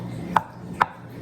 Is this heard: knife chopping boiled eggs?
yes